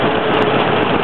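A 1951 John Deere B styled tractor with electric start idles in a steady, continuous engine drone at a tractor parade, loud and close with no talk.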